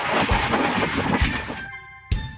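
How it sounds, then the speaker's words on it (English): Train rumble and rhythmic clickety-clack of wheels on rails, a short steady passage heard close with no voices. "Train. T R A I N."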